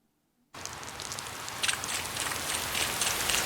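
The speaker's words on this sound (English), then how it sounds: "Just as we were nearing the manor, it began to pour out of nowhere." Heavy rain in a visual novel game scene, bursting in abruptly from silence and then pouring steadily as a dense, hissing wash that grows slightly stronger, with no voices.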